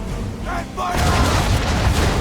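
Ship cannons firing a broadside in Assassin's Creed III, a loud deep boom after a short quieter build, followed by dense rumbling blasts that keep going to the end.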